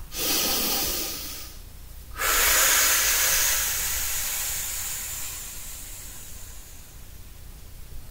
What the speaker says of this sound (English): going to inhale through the nose and out the nose or the mouth